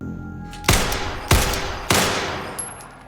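Pistol shots from the drama S Line, fired until the gun runs empty: three loud, sharp reports at steady intervals, each ringing out with a long decaying echo, followed by a fainter click near the end.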